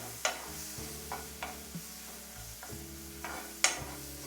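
Onion paste with mustard seeds and cumin frying in a pan, a soft sizzle broken by several sharp scraping stirs of a spoon against the metal, no voices.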